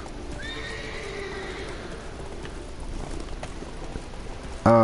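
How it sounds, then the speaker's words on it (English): Wild horses in The Witcher 3 whinny with a long rising neigh, then hooves clip-clop steadily underneath, ending in a sudden louder burst of game sound. "wild horses."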